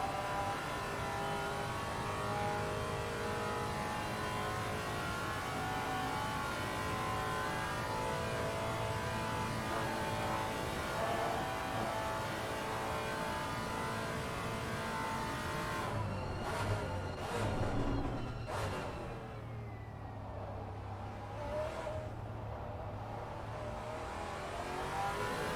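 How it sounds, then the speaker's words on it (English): A Maserati race car in Assetto Corsa Competizione screams at high revs at Spa, then downshifts with a string of sharp rev blips and crackles as the engine note drops, loud and close with no talk. "I know the Maserati sounds absolutely mean when you're downshifting as well."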